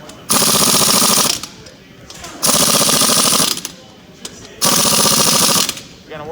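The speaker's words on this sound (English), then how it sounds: "take your 19 millimeter lug nut impact socket" An impact wrench fitted with a 19 mm lug nut impact socket rattles loudly in three long bursts, each about two seconds, with short pauses between them, close by in a garage during work on a 2002 Chevy Malibu.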